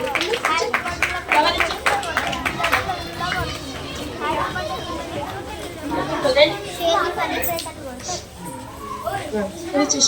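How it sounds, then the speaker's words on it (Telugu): An audience clapping to welcome guests at a school event where furniture donated by a bank is presented: steady, scattered applause mixed with children's chatter and lively crowd voices throughout. "అందరికీ మీ క్లాప్స్ తో వెల్కమ్ చెప్పండి"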